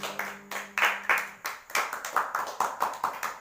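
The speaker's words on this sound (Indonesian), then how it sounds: "Tepuk tangan buat Tuhan Yesus Kristus." Rhythmic clapping from a church congregation, sharp hand claps in a steady, fairly quick beat, close and distinct, after a brief tone at the start.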